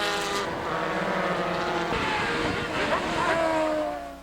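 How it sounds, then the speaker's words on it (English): Formula E class race cars at the 2009 SCCA June Sprints road race pass on track near turn 7, with a loud, steady engine drone whose pitch shifts as they go by, alongside wind noise. "Formula E class cars coming through"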